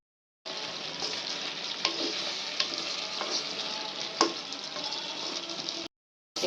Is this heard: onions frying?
yes